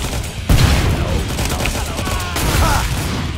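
Killing Floor 2 gunfire comes as loud, close volleys of shots with two heavy blasts standing out, the firing nearly continuous.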